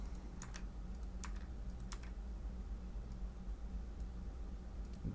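Keys on a computer keyboard clack in short bursts as code is typed, several quick close taps early on, then sparse faint presses over a low steady hum.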